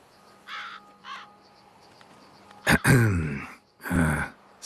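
Crows in The Witcher 3 caw twice faintly in the distance, then two loud, harsh caws ring out close by, with a quiet ambient bed between them.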